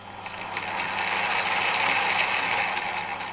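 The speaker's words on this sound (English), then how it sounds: "I've just turned it from forward to reverse." A mini milling machine of the Sieg X2 type running in reverse: a steady, fairly quiet mechanical whir with a fine gear-like ratcheting texture, unbroken throughout.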